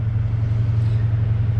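A Dodge Challenger with a manual gearbox idles in neutral with the e-brake set, giving a loud, steady, low engine rumble close by with no talk over it.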